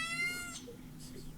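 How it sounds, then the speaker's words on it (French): A cat meows with a clear rising, harmonic call lasting about half a second, close and fairly loud, followed by quieter room sound and faint voices in the background. "Oh, il y a un chat, là."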